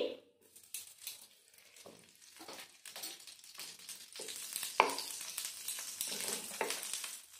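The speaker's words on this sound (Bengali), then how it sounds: "সিমুইগুলো ভেজে নেব।" Semai vermicelli frying in ghee over medium heat, a soft crackling sizzle with bursts of rustling and stirring that rise and fall, heard close and fairly quiet.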